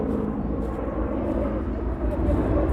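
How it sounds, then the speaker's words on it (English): Loud helicopter passing overhead, a steady low rumble filling the clip from start to finish with no talking. "Yeah, that helicopter was loud as hell."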